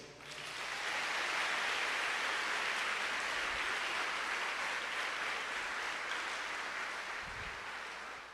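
A church congregation applauding during a sermon, a soft, even hiss of many hands clapping together that swells in, holds steady and fades out, distant and faint.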